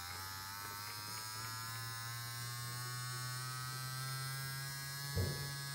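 A Dragonhawk Atom J2 tattoo pen machine runs with a steady, quiet electric buzz and hum, close and constant, with a small bump near the end.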